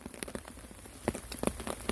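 Rain falling steadily on a hammock camp during a rain storm, a dense patter with sharper drops striking close by at irregular moments.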